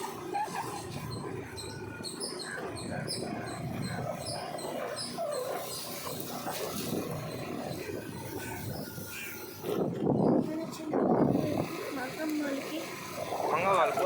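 Puppies in a village, with faint high whimpers and squeaks through a steady murmur of voices and people talking nearby.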